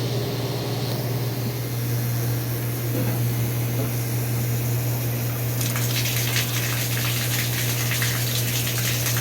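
Dirty water gushes out steadily while a boiler heating system with a failing circulation pump is bled, a constant close rushing flow under a low hum that grows brighter and splashier toward the end.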